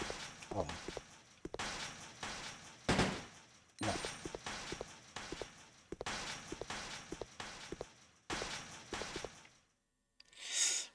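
Repeated bursts of rapid gunfire crackle in clusters in Resident Evil Code Veronica on Dreamcast, each volley sharp and loud, separated by brief pauses, ending in silence and a faint electronic tone.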